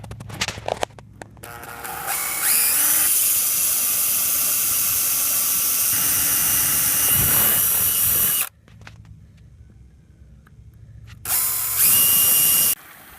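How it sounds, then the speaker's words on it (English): A power drill whines loudly for several seconds boring holes in ABS plastic pipe, stops briefly, then bites in again for a short final burst, close by. "Just going to drill some holes in the ABS pipe for water to blow out into the sluice."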